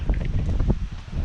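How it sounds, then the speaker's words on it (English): Gusty wind buffets the microphone in a garden in low, uneven rumbles, loud bursts rising and fading over a short stretch. "Sorry it's so windy. It's always windy."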